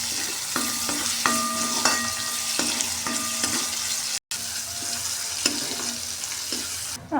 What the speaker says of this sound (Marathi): त्यात आपल्याला आपण बारीक कापून घेतलेले टोमॅटो घालून पण परतून घ्यायचे आहे.